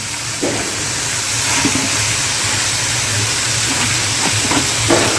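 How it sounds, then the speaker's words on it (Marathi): Chopped cabbage goes into a pan of hot spiced masala, setting off a loud, steady sizzling hiss with a few faint knocks and clatters underneath, close by and without talk. "आणि यानंतर आपल्याला घालायची आहे कोबीची भाजी जी आपण कापलेली होती ती यामध्ये घालायची आहे"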